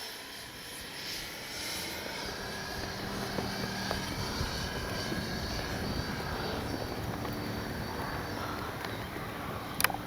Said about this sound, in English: for one slow pass. We're gonna bring the gear down as we come by.